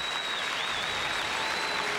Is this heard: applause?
yes